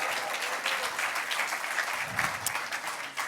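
A comedy club audience in Munich bursts into sustained applause mixed with cheers, a dense, steady clatter of clapping hands with no one speaking over it.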